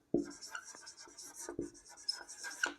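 Scratchy pen-on-paper handwriting during a Class 10 chemistry lesson, quiet and close, running in short strokes under a teacher's voice.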